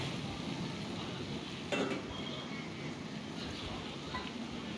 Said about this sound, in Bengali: মশলাগুলো দিয়ে আমি নেড়ে চেড়ে নিলাম